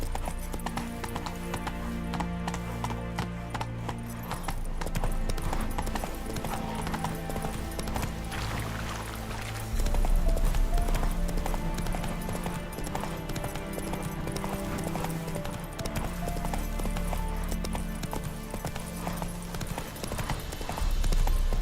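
Horse hooves clip-clop in a steady galloping rhythm in The Witcher 3, continuous and close throughout, layered over game music and ambience, with a brief whinny possible.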